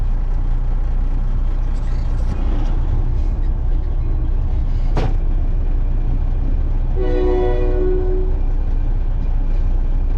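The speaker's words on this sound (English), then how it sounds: "usually a train rarely comes through this place. Well, it is now." A train rumbles past a farm steadily and loudly, with a sharp burst and a sustained horn blast sounding partway through over the constant roar.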